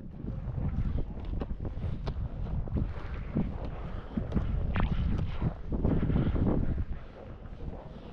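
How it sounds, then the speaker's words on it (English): Strong wind roaring across a microphone high on Mammoth Mountain at the start of a ski run, a steady gusting rush that swells and fades over several seconds with no talking. "It's kind of windy"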